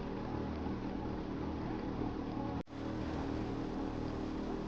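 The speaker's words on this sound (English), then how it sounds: "I can just hear the engine purring" A steady, low boat engine drone in the video game The Crew 2 hums continuously with a brief dropout partway through, no voices.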